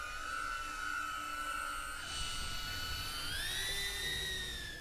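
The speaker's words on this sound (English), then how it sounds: "This drone is very loud and intimidating when you hear it." A police drone flying overhead gives off a loud, high-pitched electric whine, steady and close, rising slightly in pitch toward the end, with no talk over it.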